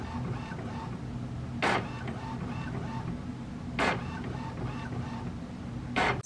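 A home printer runs off a sewing pattern for a tunic top, its steady mechanical whir broken every two seconds or so by a louder sliding sweep of the print head, close and alone.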